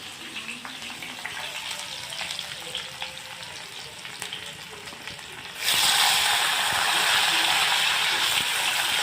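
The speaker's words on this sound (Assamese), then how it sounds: "ইফালে বিলাহীটো ভাজি থকা হৈছে।" Potatoes and tomatoes fry with onion in a pan, a steady close sizzle with scattered crackles that jumps to a louder, brighter hiss partway through; no talk over it.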